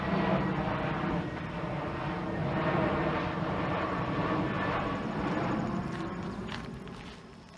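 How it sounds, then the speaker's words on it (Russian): A small airplane passes overhead on its way to a local airport near a nature reserve outside Moncton, its steady broadband drone holding fairly loud throughout and fading slightly at the end, with faint footsteps along a trail. "Самолетик"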